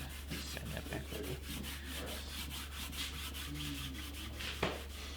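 Steady back-and-forth rubbing of a cork sanding block against the wood of an antique parlour guitar, a scratchy rhythmic scuffing with a low hum underneath and one sharper knock near the end.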